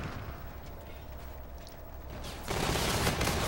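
A gun fires from the hip in a video game, heard as dense, rumbling bursts of gunfire under steady background noise that suddenly swells louder and harsher partway through, with no speech.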